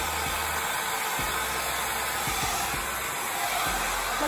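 A handheld hair dryer runs continuously at close range, giving a steady, even rush of airflow with no pauses and no talking.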